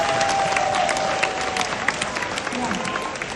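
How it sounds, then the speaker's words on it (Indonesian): Audience applause for the sponsor Triple Diamond at a business presentation, a dense continuous patter of many hands with crowd murmur, fairly loud and steady throughout. "Tepuk tangan buat sponsor kita, Triple Diamond Jenis Gan"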